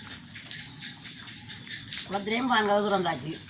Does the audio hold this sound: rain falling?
yes